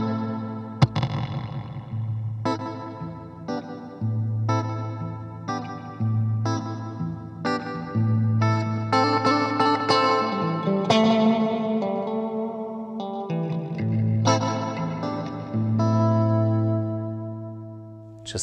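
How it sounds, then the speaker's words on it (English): Electric guitar played through a Cusack reverb pedal, a series of picked notes and chords ringing out with long, spacious reverb tails and echoing reflections, each phrase decaying slowly, with no talking. "Just to compare this with the Cusack reverb."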